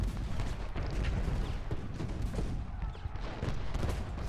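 Dense, continuous battlefield gunfire and booming volleys from Ultimate General: Gettysburg, a Civil War strategy game, rolling on steadily throughout at moderate loudness with no clear gaps.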